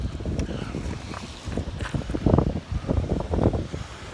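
Blizzard wind roars outdoors in gusty, uneven bursts, a loud broadband buffeting that batters the microphone throughout with no voices.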